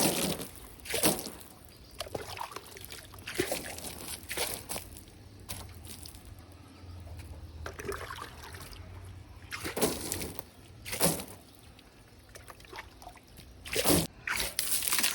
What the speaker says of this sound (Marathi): गाडीवर पाणी मारते तिथं.